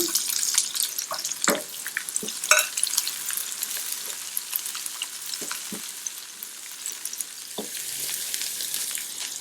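Sliced onion sautéing in a pan of hot oil while cooking a raw banana fry. A steady crackling sizzle continues throughout, broken by scattered clinks and stirring taps, with no talking.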